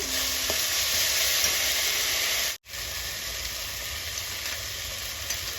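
Spice masala with turmeric powder and bay leaf fries in a pan for an elephant foot yam dish, giving an even close sizzle and hiss, cut by a brief gap near the middle.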